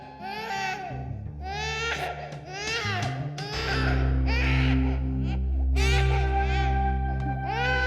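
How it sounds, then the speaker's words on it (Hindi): Repeated high wailing cries of an infant in a Hindi horror story, a run of strained cries that give way to a steady low musical drone underneath, fairly loud and close. "तुमने एक बच्चे के रोने की आवाज सुनी?"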